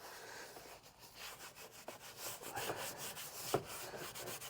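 A scrubber brush works over textured plastic in an early-to-mid 2000s GM car interior, giving quiet, steady rubbing strokes with a rhythmic back-and-forth scrape.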